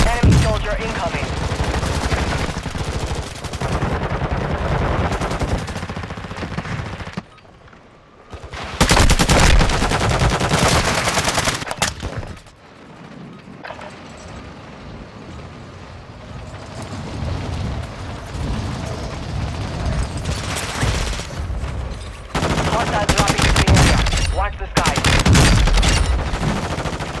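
Heavy gunfire from a military video game: sustained bursts of automatic and rapid shots fill most of the stretch, broken by brief lulls, loud and dense throughout.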